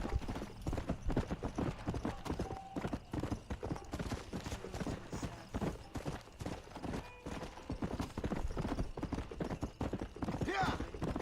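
Rhythmic horse hooves clatter at a steady gallop in Red Dead Redemption, loud and continuous, with a faint background hum and a brief rise of noise near the end.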